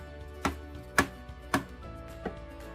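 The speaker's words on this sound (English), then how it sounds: "Now that you've chopped your mushrooms" A chef's knife chops mushrooms into slices on a board: four sharp, distinct chops spaced roughly half a second apart, the last one softer, with a quiet background and no talking.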